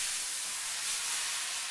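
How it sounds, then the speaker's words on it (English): Water sizzling in a frying pan while simmer-frying vegetables for a vegetarian stir-fry, a steady bright hiss close by, continuous and even for the whole short stretch. "The water sizzles up and cooks the vegetables, meat, whatever you have in the frying pan"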